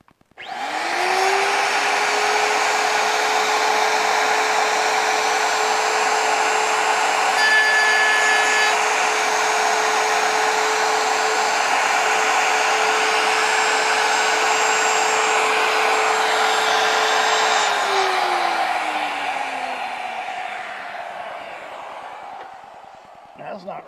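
Wood router spins up and holds a steady loud whine as it takes a light shaving from a board clamped in a Rockler dovetail jig, then winds down near the end.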